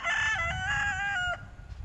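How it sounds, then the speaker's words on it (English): A rooster crows loudly and close by in a long harmonic call lasting over a second, then trails off into quiet outdoor background on a farm in Dunlap, Tennessee. "Yeah, that's the rooster."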